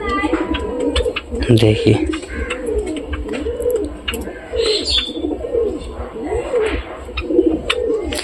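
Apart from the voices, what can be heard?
pigeons cooing in a loft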